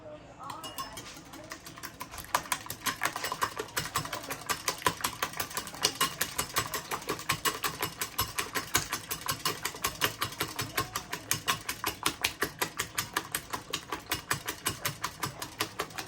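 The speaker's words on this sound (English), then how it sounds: "take a little bit of our mix right here and whisk at the same time" A whisk beats hot lemon pie filling with egg in a bowl, a fast, steady clatter of rapid regular strokes up close, with a voice talking faintly underneath.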